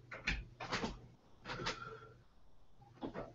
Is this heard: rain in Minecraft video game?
no